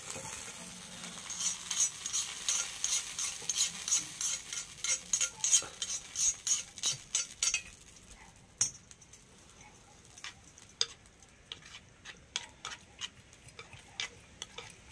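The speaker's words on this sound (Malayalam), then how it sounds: "എല്ലാം കൂടെ ഒന്ന് ഇളക്കി യോജിപ്പിച്ചു കൊടുക്കണേ" A spoon stirs and scrapes a banana stem stir-fry with mustard seeds in a hot pan. Quick rhythmic strokes come first, then slower, scattered scrapes and taps over a faint sizzle.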